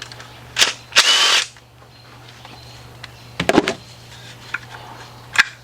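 A power tool spins out 10mm bolts from the lifter cover of a GM V8 engine in short, loud bursts of whirring, a couple near the start and a clustered group later, separated by quiet pauses.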